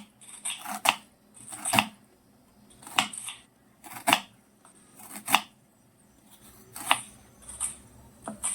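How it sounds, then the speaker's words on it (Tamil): Sharp knife strokes chop an onion on a board, evenly spaced about once a second, close and crisp with quiet pauses between. "இப்போ வெங்காயம் கட் பண்ணிட்டோம்"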